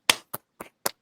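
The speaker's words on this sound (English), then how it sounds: "Round of applause." Four separate hand claps, sharp and close, spaced unevenly over about a second in a quiet room during a casual sports talk show, with no voices over them.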